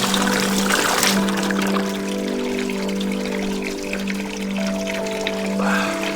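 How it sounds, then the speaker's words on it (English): Spring water pours steadily from a wash area at a mountain hut near Mt Kumotori, a continuous close splashing flow with a faint tonal hum underneath and no talking. "there's a little wash area, which I think might be mountain mineral water,"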